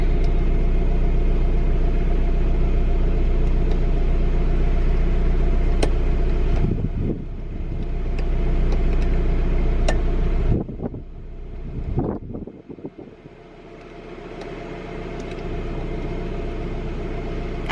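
Steady low rumble and road noise from a car being driven, loud and continuous, dipping briefly a few times before settling back into the drone.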